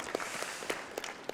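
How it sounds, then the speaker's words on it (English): Faint applause from a seminar audience, a thin patter of scattered claps at low level with a few sharper individual hits standing out, no speech over it. "Can we get a round of applause for the Almond Board people doing this thing?"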